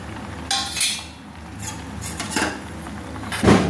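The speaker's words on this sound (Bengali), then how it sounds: "আবার ভালো করে নেড়ে নিচ্ছি" Simai vermicelli mixed with crushed fried nuts is stirred in a pan on a gas stove, metal utensil scraping and clinking against the pan in a few brief bursts, with a sharper clank near the end.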